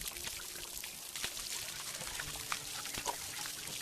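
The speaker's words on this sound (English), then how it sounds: "We can water our plants." Watering plants in the VR game Garden of the Sea: a steady stream of poured water splashing and trickling close by, even and unbroken for a few seconds, with no voices.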